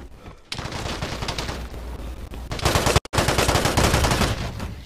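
Sustained gunfire exchange in the video game Vigor, with rapid overlapping shots and bursts loud and close throughout, broken by a brief silent gap near the end before the shooting resumes.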